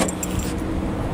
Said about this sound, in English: So lock up the cars, lock up the doors and everything.